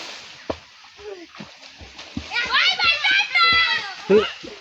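Children jumping into water outdoors, with sharp splashes at irregular intervals and lively shouting and chatter from several kids rising over the splashing.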